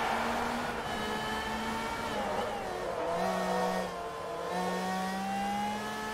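A race car engine revs hard in the Forza Motorsport 3 racing game, with whining tones that rise and shift through gear changes, loud and continuous with no talk.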